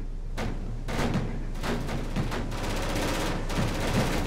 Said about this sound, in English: Oh yeah, look at that anti-aircraft fire.